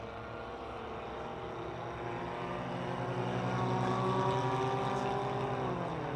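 Four-cylinder race cars roar around a Pittsburgh speedway at the start of a race, a dense continuous engine drone that swells slightly as the pack passes, heard from a distance.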